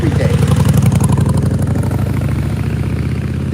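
A motorcycle engine chugs loud and close with a rapid, even pulse that eases slightly as it moves along.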